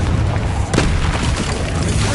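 A Confringo fire-blast spell exploding in the video game Hogwarts Legacy, a loud booming burst with a sharp hit partway through over a dense, roaring rumble.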